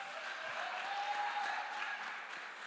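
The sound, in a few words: audience applause at political public meeting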